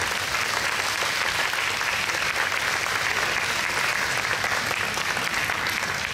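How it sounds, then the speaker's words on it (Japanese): An audience at a shrine kagura dance performance applauds, a dense and steady roar of many hands clapping at close range that holds without a break. "激しいのにもう一度拍手をお願いいたします"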